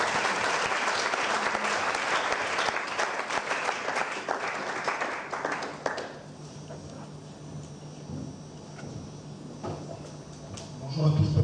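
An audience at a book presentation in Kinshasa applauds in a dense, steady burst for about six seconds. The clapping then thins and fades beneath a speaking voice.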